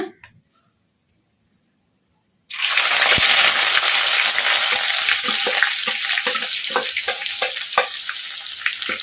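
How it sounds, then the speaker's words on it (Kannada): Crushed onion hits hot oil already crackling with curry leaves, mustard seeds and cumin, bursting into a loud, steady sizzle after a couple of seconds of near silence, with scattered pops and spoon scrapes over medium flame. "ಉಳ್ಳಾಗಡ್ಡಿ ಲೈಟ್ ಬ್ರೌನ್ ಕಲರ್ ಬರೋವರೆಗೂ ಫ್ರೈ ಮಾಡ್ಕೊಂಬಿಡೋಣ ಮೀಡಿಯಮ್ ಫ್ಲೇಮಲ್ಲಿ"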